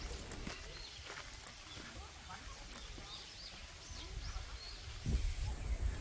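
Soft footsteps crunch along an outdoor path near the Bangudae Petroglyphs in Ulsan, with faint birdsong in the background and a few louder steps near the end.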